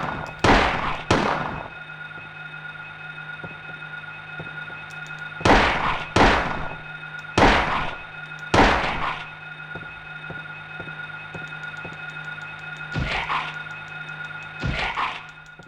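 Gunshots fired at a creature in Silent Hill 1, a survival horror game: sharp bursts in pairs and singles, loud and close, spaced across the stretch over a steady low electronic hum.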